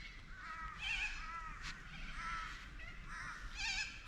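Evening bird chorus on a farm in Australia, with parrots among them, a steady mix of overlapping chirps and harsh calls at moderate distance, rising and falling in repeated bursts throughout.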